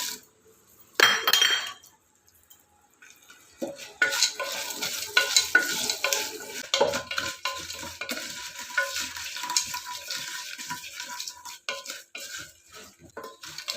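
Spices and asafoetida being stirred and fried in a pan for puliyodharai (tamarind rice), with a sharp clink at the start and then steady scraping, sizzling and utensil taps on metal for several seconds.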